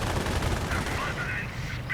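Rapid rifle and machine-gun fire crackles in a Company of Heroes 2 battle as airborne troops come under attack, dense and continuous under a commentator's voice.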